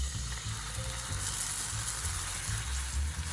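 Miso-style pre-made sauce sizzles and bubbles around salmon fillets in a hot frying pan, a steady close crackling fry with no voices.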